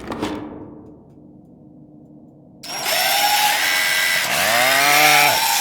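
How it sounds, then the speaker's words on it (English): Power drill whirring loudly and continuously after a quiet start, its pitch rising and falling as the bit bites into material, close by. "Just drill it."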